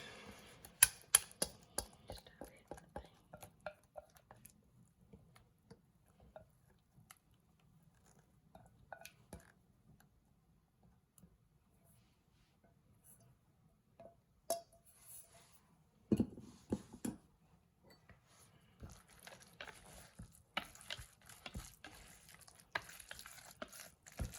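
Tuna mixed with added ingredients in a bowl for an Asian-style dish makes soft, intermittent clicking and scraping taps, faint and close, with no talking.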